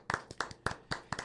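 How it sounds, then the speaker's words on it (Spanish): A few sharp hand claps in a quick, uneven rhythm, close by and fairly faint, with no voices. "Vamos a darle con un fuerte aplauso la bienvenida"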